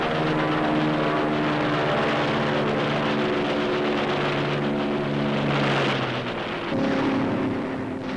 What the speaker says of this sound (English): United States Navy fighters and bombers in clashing low-level attacks on Japanese shipping